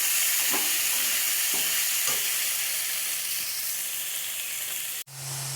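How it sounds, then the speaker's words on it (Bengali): Turmeric and cumin powder fry in a pan under a loud, continuous sizzle, with a few spoon scrapes early on and an abrupt cut near the end. "আর এ হচ্ছে জিরার গুঁড়ো আমি পরিমাণ মতো দিয়ে একটু নাড়াচাড়া দিয়ে দিচ্ছি।"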